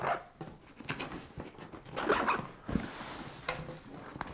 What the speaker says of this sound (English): Pocket on the other side with the paracord zipper pulls, also zips down on three sides